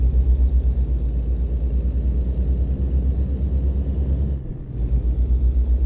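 A GMC Brigadier truck in American Truck Simulator hauling doubles trailers, its engine a loud, steady low diesel rumble with a brief dip near the end as it shifts.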